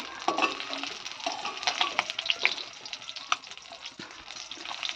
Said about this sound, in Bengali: তো এই দেখো বন্ধুরা মাছ ভাজা হচ্ছে, কই মাছ